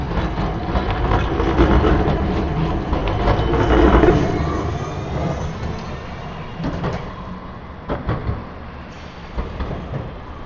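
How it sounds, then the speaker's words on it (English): A tram rumbles past nearby with low mechanical rolling and rattling, loud at first and then fading, with a few clunks near the end. "Tram."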